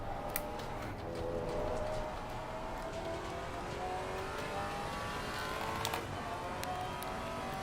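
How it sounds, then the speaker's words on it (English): Race cars in Assetto Corsa Competizione closing in at Indianapolis, their engines a steady sustained drone with rising pitch sweeps, loud and continuous throughout. "Faster cars approaching. Watch out."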